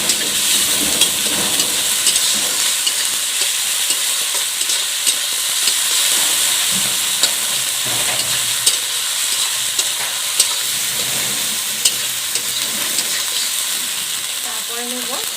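Small fish curry frying in a pan as cumin paste goes in, giving a steady, loud, close sizzle with faint stirring clicks throughout, and no talk.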